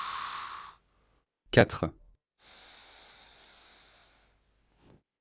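A person doing knee exercises breathes audibly, with a soft inhale, a sharper snorting exhale, then a long hissing breath, all close and quiet, plus a brief spoken count.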